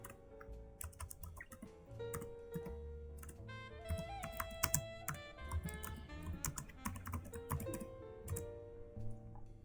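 Quiet clicking of keys on a computer keyboard, irregular bursts of typing including a shortcut combination and Enter, close and alone without talk.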